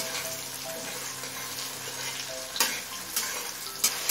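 Chopped small tomatoes frying on high flame in a pan for a Bengali jackfruit and prawn curry: a steady, bright sizzle with a few sharper spatters and stirring knocks near the end.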